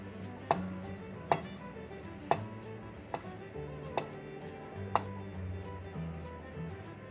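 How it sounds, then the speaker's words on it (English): A knife slices bologna crossways on a cutting board, giving seven or so crisp, evenly spaced knocks against a quiet, low background hum. "I'm going to cut it up crossways"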